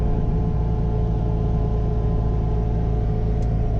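A steady, low engine drone fills the interior of a Fiat 126 as it drives through the city, constant and close with no voices.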